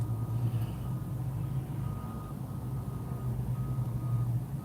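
Garbage truck idling nearby with a steady low diesel drone, faint intermittent reversing beeps or tonal whine riding above it throughout.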